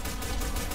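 Gunfire in the Warface shooter on the Villa map at hard difficulty: a dense, continuous stream of automatic shots with no gaps, loud and close.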